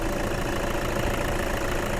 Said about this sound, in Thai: เร่งเครื่องไม่มีสั่น ไม่มีคอน